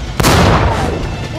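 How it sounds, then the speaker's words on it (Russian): A single tank cannon shot in a World War II battle scene with American Sherman tanks against a German Tiger, a sharp, loud blast followed by a long rumbling decay. "Готов! Выстрел!"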